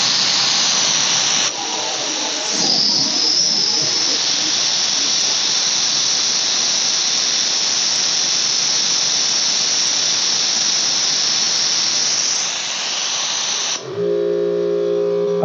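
Harbor Freight spark plug cleaner blasting with compressed air at about 90 psi, a loud steady roaring hiss lasting more than ten seconds before it cuts off abruptly, followed by a brief tonal hum.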